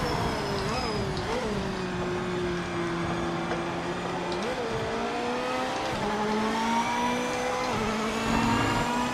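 Race cars in the racing video game Project Motor Racing, engine notes rising and dropping through gear shifts, steady and loud, with faint tire noise and no talk.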